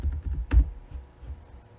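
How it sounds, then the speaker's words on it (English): Fingers type an IP address on a computer keyboard, a short burst of quick, close key clicks with one sharper tap, alone in a quiet room. "type the IP address you configured"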